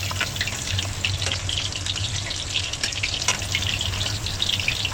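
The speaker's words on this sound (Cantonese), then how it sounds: "咁生蒜頭一齊炸" Raw garlic fries alongside fish belly pieces in hot oil, a steady close sizzle dotted with sharp crackles and spits, unbroken from start to finish over a low steady hum.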